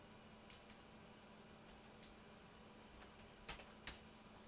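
Faint, sparse keystrokes on a computer keyboard while someone codes, a few isolated clicks with a closer pair of taps near the end over a quiet room hum.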